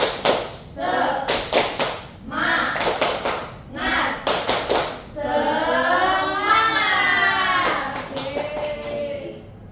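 A class of children claps a rhythmic spirit clap in an Indonesian classroom, sharp claps in short patterned bursts, followed by the group chanting together in a loud unison voice.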